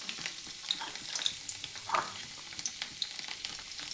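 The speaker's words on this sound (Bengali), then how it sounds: "তো তেলটি গরম হয়ে গেলে এখানে দিয়ে দিচ্ছি কুচি করে রাখা রসুন।" Chopped garlic frying in hot mustard oil in a wok, giving a steady crackling sizzle close by with small spatters and pops throughout, no voices.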